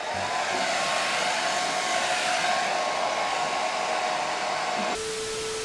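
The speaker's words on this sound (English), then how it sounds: "Just stay still and just move the blow dryer around." Close, loud blow dryer drying hair, a steady whooshing airflow with a constant motor hum, the tone shifting abruptly near the end as the setting changes, no voices.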